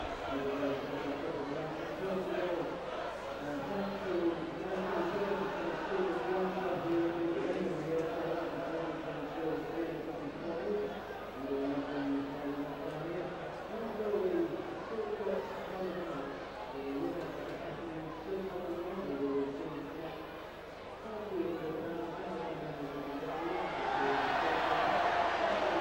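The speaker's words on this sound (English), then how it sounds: "I'm letting the crowd and the noise of the Leeds supporters do all the talking for me" Leeds Rhinos rugby league supporters at a 2001 match against Swinton Lions, a steady, dense crowd roar with chanting-like swells late in the game, continuous and moderately distant.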